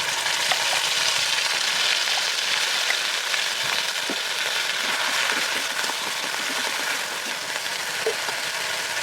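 A fried spice paste sizzles steadily in a hot pan with a little cumin over a raised gas flame, a loud, continuous hiss with faint crackles throughout and no voices.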